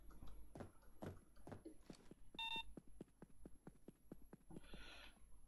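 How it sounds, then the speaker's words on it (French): Electronic beeping from a security system during the art museum heist in the video game Payday 2, a short burst of high tonal beeps standing out over a steady run of rhythmic footstep-like thuds. "Ça bip quand même sévère, hein,"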